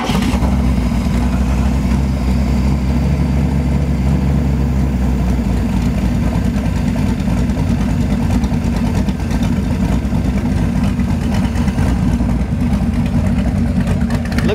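A 2017 Boss Hoss 383 Stroker motorcycle with a V8 engine idles loudly and steadily nearby, a deep low rumble that holds throughout with no speech over it.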